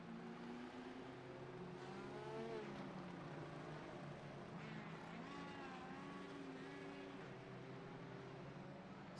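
IndyCar race car engines roar in a racing video game on the Milwaukee Mile oval: a steady, continuous drone whose pitch keeps sweeping up and down as cars rev and pass.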